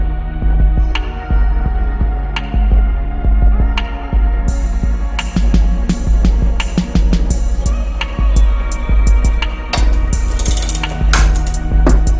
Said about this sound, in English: As I'm tightening this and pressing the bearing, I need to look inside this hole so I know when it's seated.